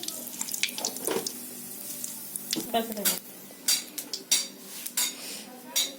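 Nigella seeds (kalo jeera) dropped into hot oil in a pan crackle and sizzle in bursts, with scattered sharp pops and some clattering of utensils over a steady frying hiss.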